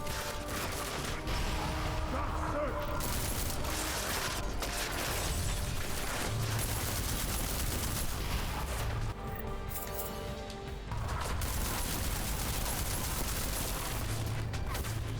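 A combat rifle fires in Deus Ex: Mankind Divided, with steady, dense bursts of gunfire running almost continuously and briefly dropping off before resuming, loud and close amid other game noise.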